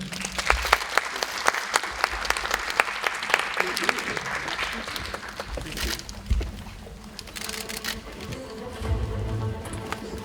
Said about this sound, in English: Please give Mr. George Miller a huge round of applause for being here with us today.